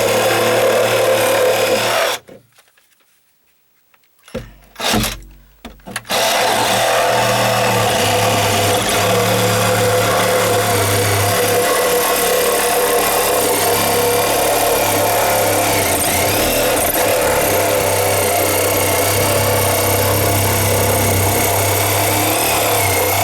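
A Sawzall reciprocating saw cuts through dry-rotted deck wood, giving a loud, steady buzzing rasp that stops briefly near the start and then runs on continuously without any talk.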